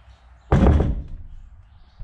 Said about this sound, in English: Push the door. Push the door.